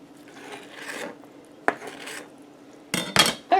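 A large knife hacks and scrapes through a raw chicken while it is quartered on a cutting board, a few sharp thuds and rasping cuts spaced irregularly, close and clear with no talking.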